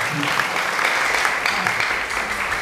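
Steady applause from an audience at a youth camp event, honoring the organizing committee chairman, a dense continuous patter of clapping at moderate volume with no break and no speech over it.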